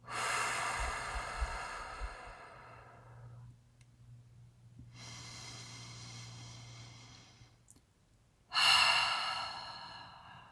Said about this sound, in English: Taking some deep breaths.